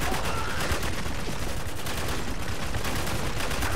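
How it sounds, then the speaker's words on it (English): Burst-fire weapon in Spec Ops: The Line, with rapid, closely packed gunshots rattling continuously at close range and loud throughout. "Burst fire!"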